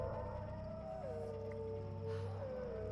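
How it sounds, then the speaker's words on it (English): Dogs howl in the Tomb Raider video game, a long wavering wail that slides and bends over a low steady hum of game ambience, faint and distant. "What is dogs howling?"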